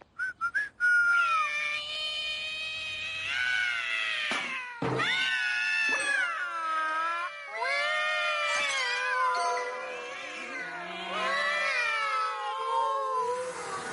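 Cartoon cats yowl outside at night, several drawn-out, wavering meows and caterwauls that overlap and trade off continuously, loud and close, with a few sharp knocks early on.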